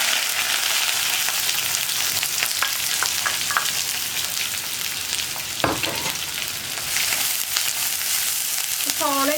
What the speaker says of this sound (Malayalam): അപ്പോൾ നമ്മുടെ കടുക് പൊട്ടിക്കൊണ്ടിരിക്കുന്നുണ്ട്